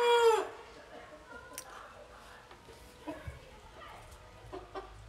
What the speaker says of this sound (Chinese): 我一说话他就叫唤